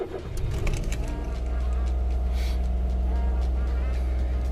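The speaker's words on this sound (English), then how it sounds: "Let's just turn it on normally and see if it stays at a decent idle." A Suzuki Alto Lapin cranks briefly and catches, then settles into a steady low idle hum, close and constant after the start.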